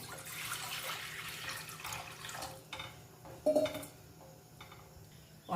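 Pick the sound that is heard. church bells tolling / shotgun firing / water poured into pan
water poured into pan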